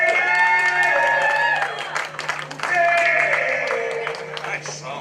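A comedy club audience applauds and cheers as a comedian is welcomed to the stage, with loud sustained clapping, whoops and music playing underneath.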